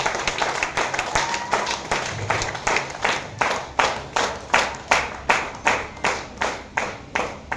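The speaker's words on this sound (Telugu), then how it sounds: "ఒక్కసారి గట్టిగా క్లాప్ ఇస్తున్నారు" An audience at a meeting claps loudly in unison, a steady run of sharp, evenly spaced beats, close and forceful, with a few scattered claps at the start.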